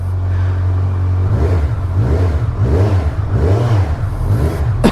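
A 2023 Kawasaki Z1000R Edition motorcycle with its stock exhaust revs up repeatedly. The deep, loud engine note swells and falls in rhythmic pulses over a steady idle rumble, close by and with no talking.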